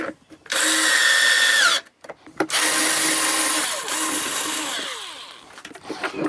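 A power drill drives four screws to fix the handle onto a Yeryork 5000 Max adjustable PSI pressure washer: loud, close whirring bursts, one long run, a short stop, then a second long run that winds down with small trailing buzzes.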